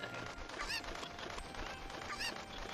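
A cucco chicken in Zelda: Ocarina of Time gives two short squawking clucks as it is tossed over a fence, set against a steady game background.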